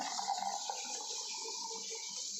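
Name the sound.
liquid poured into container with lemon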